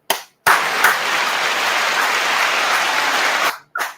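Round of applause in a boxing fight-preview show, a dense burst of clapping that starts abruptly after a brief pause, holds steady and loud, then cuts off sharply with a short tail at the end.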